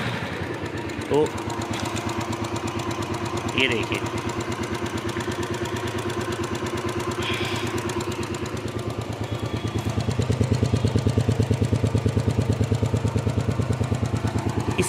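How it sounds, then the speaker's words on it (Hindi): A Royal Enfield Classic 350 motorcycle engine idles up close with a rapid, even putter that grows a little louder near the end; someone speaks briefly early on. "आपको इसके इंजन को स्टार्ट करके देखना है, और साउंड देखनी है"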